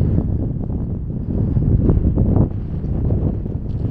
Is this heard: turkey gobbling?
no